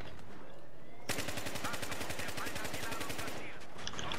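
Gunfire in the Battlefield 3 video game: after a quiet second, rapid automatic bursts start abruptly and continue as a loud, steady, evenly spaced stream of shots until the end.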